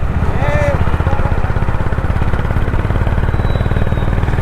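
A Honda CB350 Highness motorcycle cruising at about 70 km/h in fifth gear at night, its engine thrumming in a steady, loud, even pulse that holds throughout, with wind noise over it.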